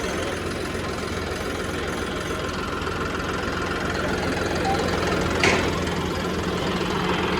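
A Swaraj 855 4x4 tractor engine idles steadily throughout, a low continuous chugging rumble with even vibration, close by and unaccompanied by voices.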